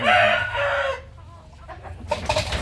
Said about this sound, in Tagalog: yung dayong manok dito